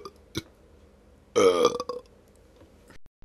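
A loud, close belch rumbles for about half a second with a short trailing gurgle, alone against a quiet background with a few faint clicks.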